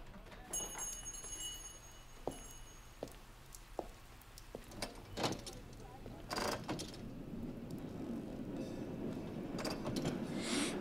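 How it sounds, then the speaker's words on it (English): Interior of a crowded moving tram, with rattling clicks, clunks and mechanical knocks over a low rumbling hum that swells toward the end, plus faint high tones early on. "Not a seat to be had in this tram."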